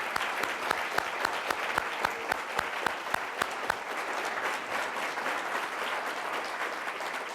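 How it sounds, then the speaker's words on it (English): An audience gives sustained applause honoring Dr. Buckwald at a university excellence awards ceremony, starting with a few sharp individual claps before swelling into a dense, even wash of clapping from many hands. "I would like for you to join me in applause in honoring Dr."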